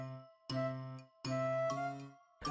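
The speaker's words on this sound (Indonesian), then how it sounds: "bel apartemen berbunyi" An apartment doorbell chimes in three bright, ringing tones, each sustained with a slow decay, loud and close with brief silent gaps between strikes.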